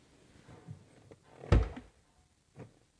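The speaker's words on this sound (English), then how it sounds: "Open door." The door of a TVR Chimaera sports car unlatches with a few soft clicks, then a single solid thunk and a lighter knock, close up in a quiet workshop.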